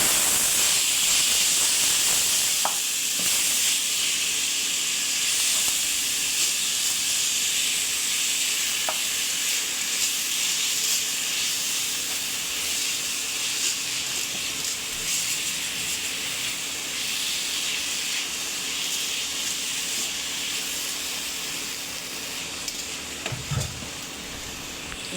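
Bottle gourd hits hot oil in a pan with a loud, steady sizzle and hiss that runs throughout, slowly easing off, with a few faint stirring knocks and no talk.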